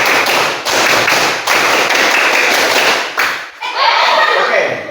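A class performs the rhythmic Scout clap (tepuk pramuka), with many hands clapping together in loud, dense bursts in a classroom. Several short pauses split the pattern before it trails off, and a few children's voices are faintly mixed in.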